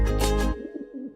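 Pigeon cooing, a low soft coo that comes after a louder, broader burst at the start of the short clip.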